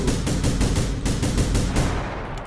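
Rapid gunfire from The Final Station, about a dozen sharp shots in quick regular succession, loud and close, tailing off near the end.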